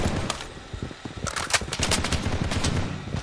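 Gunfire in the shooter game Project BloodStrike: rapid bursts of automatic fire, close and loud, with sharp, clustered shots stepping up in density through the second half.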